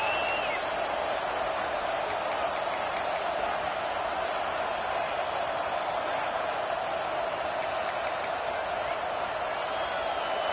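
Broad, steady roar of a large American football stadium crowd at a season-opening game against Arkansas, a constant wall of noise with faint whistles and shouts rising above it, no clear talk.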